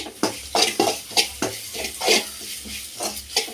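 Masala powder for fish puttu is stirred and sautéed in a pan, with repeated scraping strokes of a spoon against metal over a soft sizzle, close up and rhythmic.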